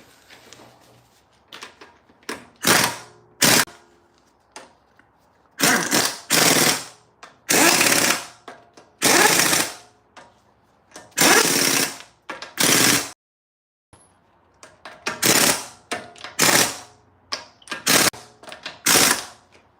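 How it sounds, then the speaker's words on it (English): An impact gun tightening wheel bolts on a 2015 Mini F56, firing in repeated loud hammering bursts of about a second each, separated by short quiet gaps, close by. "My gun is not set to a lot of pressure, so it doesn't tighten the bolts"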